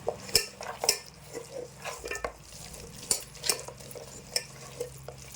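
Mutton pieces are stirred with masala for a restaurant-style biryani, a spoon scraping and clinking against the pot in a steady irregular rhythm, close and moderately loud over a soft background hum.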